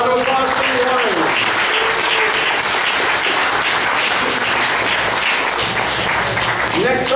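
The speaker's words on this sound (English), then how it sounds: "All right, one more round of applause for Lauren." A convention crowd applauds a costume contest entrant with steady, dense clapping, while an amplified voice speaks over it at the start and again near the end.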